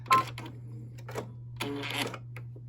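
A sewing machine stitches patchwork quilt fabric in short, rattling bursts over a steady electrical hum, with a brief pause between runs.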